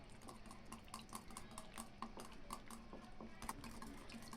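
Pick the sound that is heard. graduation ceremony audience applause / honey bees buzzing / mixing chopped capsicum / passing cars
mixing chopped capsicum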